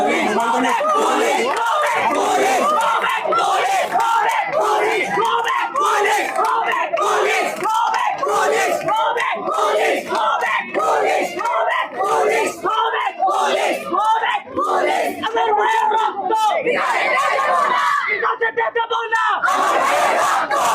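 A large student and teacher protest crowd at the High Court grounds in a quota movement rally, loudly chanting slogans in a continuous rhythmic call-and-response, close and dense throughout.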